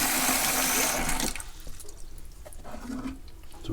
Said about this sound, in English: Now you want to throw away the water that you soaked them in.